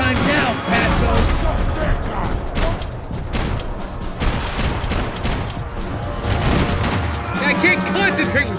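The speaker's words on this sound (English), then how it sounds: "I can't concentrate with bullets whizzing past my head" Loud, continuous gunfire in the video game Max Payne 3, dense rattling bursts and impacts packed closely together, mixed with voices talking over the action.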